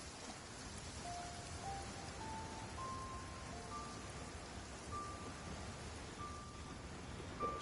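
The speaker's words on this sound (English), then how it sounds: "Where'd this rain come from?" Steady rainfall in the video game Genshin Impact, a continuous even hiss of rain on surfaces with faint tonal game sounds drifting above it.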